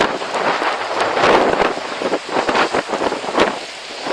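Gusty wind on the Isle of Arran buffets the microphone in uneven, rushing surges, steady and fairly loud throughout with no voices.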